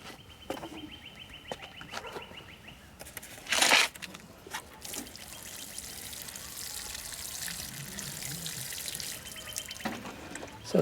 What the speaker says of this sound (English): Just water that in.